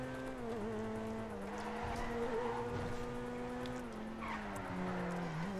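A Ferrari skids in the video game GTA Online, giving a steady, loud tonal tire-and-engine whine that wavers and bends in pitch for several seconds, with no talking.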